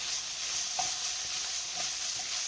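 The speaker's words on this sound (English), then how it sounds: "So I want the mushrooms to get like a little saute, and I'm going to put back my carrots" Mushrooms and carrots sautéing in a pan, a soft continuous sizzle with a few faint stirring taps, low in level and without talk.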